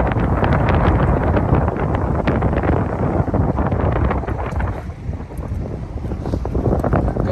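Strong 10-15 mph wind buffets a fishing boat at the Galveston jetty, a steady loud roar of wind rumble over the microphone with water noise underneath, continuous throughout.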